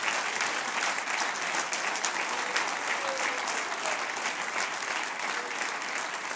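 A church congregation applauding at a Sunday service, dense steady clapping from many hands filling the room at an even level throughout.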